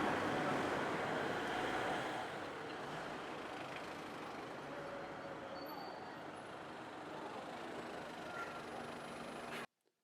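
Road traffic passing a roadside spot, a continuous wash of tyre and engine noise at moderate distance that swells and eases slightly before cutting out abruptly near the end.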